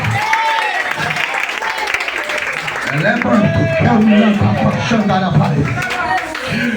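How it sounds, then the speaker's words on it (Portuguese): A church congregation applauds in worship, clapping blended with loud voices and sung or shouted praise over it, the crowd noise swelling toward the middle. "A igreja aplaude o Senhor porque Deus está neste lugar."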